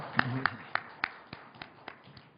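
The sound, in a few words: congregation applauding in church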